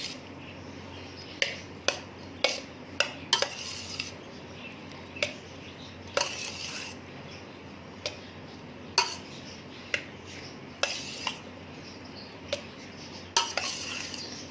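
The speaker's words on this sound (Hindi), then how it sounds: "तो मायोनीज़ डाल के इसे अच्छी तरह मिक्स करेंगे" A spoon mixes chana chaat with mayonnaise in a bowl, tapping and clinking against the sides in irregular sharp knocks over a soft, wet stirring background.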